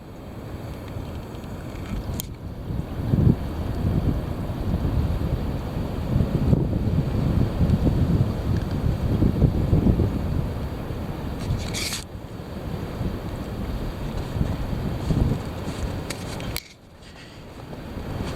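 Heavy wind roars and buffets a microphone outdoors in steady loud gusts with no voices, with a few sharp crackles and a sudden drop near the end.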